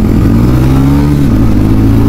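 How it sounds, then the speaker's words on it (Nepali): A TVS Ronin 225 motorcycle engine revs hard during a ride, a loud steady drone close to the listener with the pitch climbing and then dropping as the throttle changes, with no talking. "घरिघरि बाइकको पावरको पनि फिल दिनुपर्छ, लिमिटमा कुदाउनुपर्छ।"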